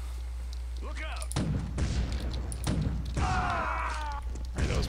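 Grenade blasts in the shooter game Chaser land as several heavy booms and thuds in a busy firefight, with clutter and a brief tonal whine mixed in over steady low game rumble.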